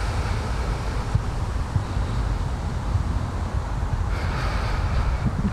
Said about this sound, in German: Wir haben einen böenstarken Wind.